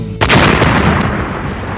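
A single loud explosion bursts suddenly, followed by a heavy rumbling roar that slowly decays, like an electric three-wheeler's battery exploding.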